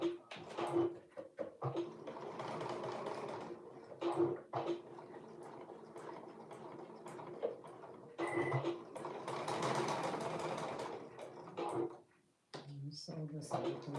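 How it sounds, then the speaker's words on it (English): A domestic sewing machine stitches a seam in bursts of rapid motor whirring and needle clatter, pausing and restarting several times, close and moderately quiet, with brief handling noises between runs. "Let's sew it at a 3/8 seam allowance."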